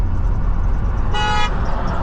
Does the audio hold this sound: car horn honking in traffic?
yes